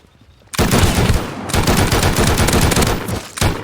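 Loud bursts of rapid gunfire in the survival video game Rust, including shotgun and automatic fire. The shots come close and dense, with a short gap between long volleys and a final burst, and there is no talking.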